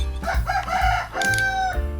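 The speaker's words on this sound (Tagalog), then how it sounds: "Ito na naman yung manok na ano." A rooster crows loudly and close by in a Filipino workshop where battery lugs for an active balancer are being fitted; one long drawn-out crow dominates with low background hum.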